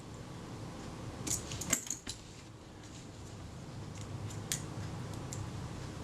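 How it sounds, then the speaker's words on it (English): A Retina Reflex type 025 camera's film release gives a few small, faint mechanical clicks and light metallic ticks against a quiet background, close up with no talk. "When the film release works, there are 2 clicks, and I'm hearing the first click but not the quieter second click."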